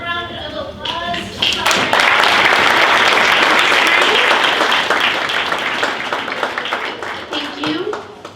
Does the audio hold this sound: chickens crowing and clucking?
no